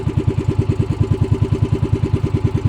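A small boat engine idles steadily at close range, its low pulsing chug repeating evenly throughout with no other sounds.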